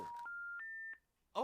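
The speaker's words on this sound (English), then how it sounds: "well, the phone cut off." A phone call cuts off, leaving a short electronic tone: three rising beeps in steady sequence, quiet and clean, followed by a brief pause and a faint noise burst.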